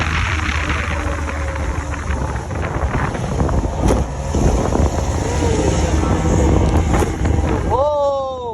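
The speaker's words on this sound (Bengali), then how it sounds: "স্পিডবোট পাড়ি দিলেই পৌঁছে যাবেন মহেশখালী।" A speedboat crosses the sea toward Maheshkhali, with a continuous loud engine roar mixed with heavy wind buffeting throughout.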